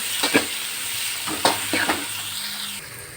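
Ponnanganni greens and egg being sautéed in a pan over popped mustard seeds give off a steady sizzle, broken by a few scraping stirs of the spatula at irregular moments.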